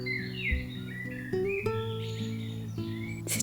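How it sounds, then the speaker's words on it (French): Birds sing in a forest in France, several bright chirps and warbling phrases over a steady background tone, moderately close and continuing throughout. "Vous entendez les oiseaux?"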